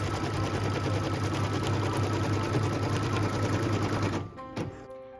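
A sewing machine runs a tack down line through pieced quilt fabric, a loud, fast, continuous whir that stops abruptly near the end, followed by a brief clunk.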